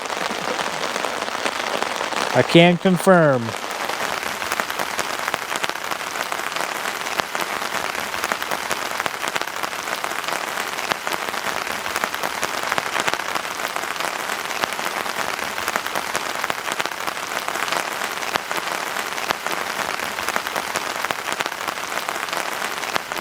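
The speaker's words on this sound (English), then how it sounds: "Well, folks, it's raining." Rain falls steadily on a river during a fishing trip, a dense hiss of drops on water and gear heard throughout, with a brief voice and a short whirring reel sound near the start.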